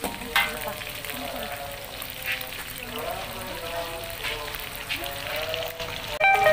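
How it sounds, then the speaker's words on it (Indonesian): Ground spice paste sizzles and crackles as it is sautéed in a hot pan, a steady close frying hiss with occasional stirring, while a voice talks over it. "ini bumbunya ditumis sampai harum ya"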